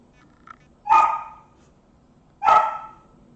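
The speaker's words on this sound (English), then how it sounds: "Bark at Twitch, puppy." A puppy gives two loud, sharp barks about a second and a half apart, close to the microphone, after a faint yip at the start.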